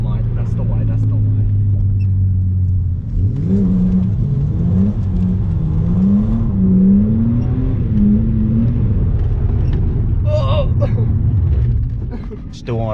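Ford Falcon engine revving hard as the car slides sideways while drifting, with rising and falling throttle blips over a steady rumble, close and loud, and someone talking over it.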